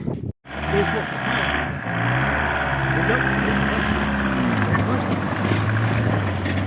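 A Citroen Berlingo bought after a crash runs with a steady, low, droning engine hum that deepens partway through, with voices faint beneath it.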